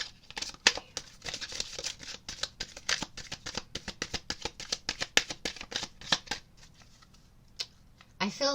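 Tarot cards being shuffled by hand, a quick run of crisp riffling snaps that is close and clear, fading to a few scattered flicks near the end.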